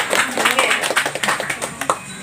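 A small group claps at a temple gathering, close and uneven hand claps in quick irregular bursts over a few seconds.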